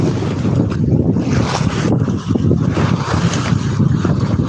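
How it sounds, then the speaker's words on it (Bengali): Cargo trawler boats pass on a river, a loud rough mix of engine rumble, water wash and heavy wind buffeting on the microphone, continuous with no talk. "দেখতে পাচ্ছেন একের অধিক ট্রলারগুলো আছে মালবাহী ট্রলার"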